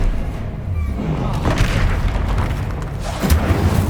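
A fire spell in the Hogwarts Legacy video game strikes with booming, thudding impacts over a dense bed of combat effects, loud and steady across four seconds, with a heavier burst late on.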